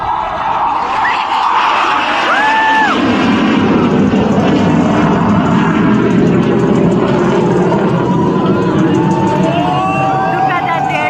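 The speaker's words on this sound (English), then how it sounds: "It's an advanced trainer jet propelled single engine aircraft." Hawk Mk-132 single-engine advanced trainer jet of an aerobatic display team performing a manoeuvre, a loud sustained roar with a rising whoosh, mixed with crowd noise and voices.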